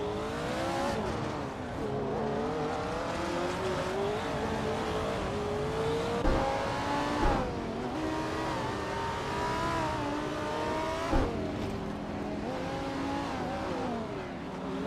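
Race cars speed around a track, engines revving and whining in rising and falling pitch as they shift and pass, with brief tire squeals and sharp bursts, loud and continuous with no voices.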